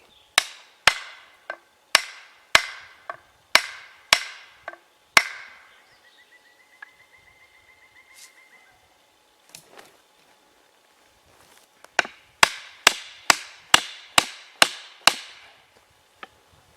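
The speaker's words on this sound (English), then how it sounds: "I have to pound the haft on a little bit further yet." Sharp, ringing blows of a hammer driving the wooden haft further into a Welland Vale True Temper Black Prince axe head, struck in a steady series of about a dozen, then a pause, then another quick run of strikes, close and loud.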